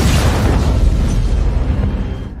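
A truck explodes in an action film scene: a loud, booming explosion roars and rumbles continuously, a dense blast of low-end noise that fades slightly at the end.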